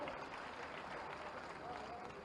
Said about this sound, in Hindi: जोरदार तालियां इन सभी लाभार्थियों के लिए।